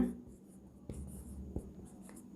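Pen strokes writing out a step of a division math solution, a soft continuous scratching with a couple of sharper taps, close and fairly quiet, with little talk.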